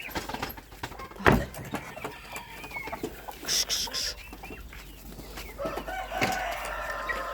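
Chickens and chicks cluck and squawk at moderate distance in a farmyard with turkey poults, geese and ducks, irregular and scattered, with a sharp clatter early on and faint barnyard noise throughout.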